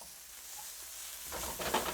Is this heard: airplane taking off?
no